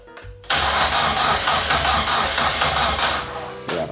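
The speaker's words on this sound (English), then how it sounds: "So let's do a crank again." A Locost 7 kit car engine cranks over on the starter, a loud, close, rapidly pulsing whirr that runs for a few seconds before slowing and cutting off.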